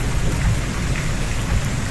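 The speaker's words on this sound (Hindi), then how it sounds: "बाहर बारिश है।" Steady, loud rain pours down outdoors, a dense continuous hiss with a deep low rumble beneath and no voices.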